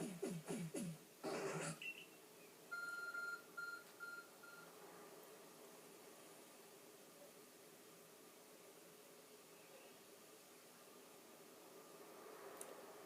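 Arc phone beeping in Pokémon Legends Arceus, a few short electronic bleeps in a quick pattern over a soft background hum, after brief game sound effects at the start.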